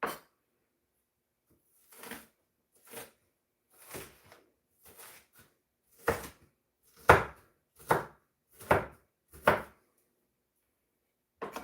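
A knife chops onions on a board in a string of about a dozen separate, crisp strokes, sparse at first, then louder and more regular, with quiet gaps between and no talking.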